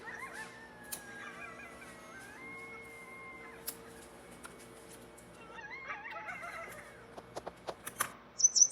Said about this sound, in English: That's coyote howls.